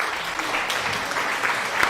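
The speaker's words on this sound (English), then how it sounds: "we've had applause" Applause from a live tabletop role-playing game stream fills two seconds as a dense, steady patter of many hands clapping at moderate distance, with no clear gaps.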